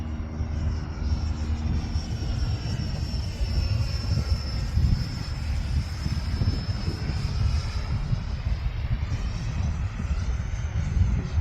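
FMS F-16 radio-controlled jet with a 64mm electric ducted fan flying overhead, a continuous loud rushing whine with a high tone that rises and falls slightly as it passes, with no talk.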